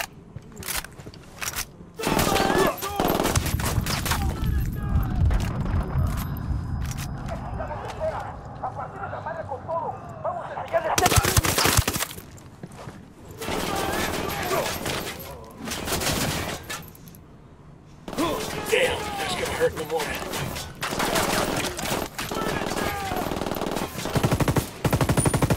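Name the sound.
gunfire in the video game Ghost Recon Wildlands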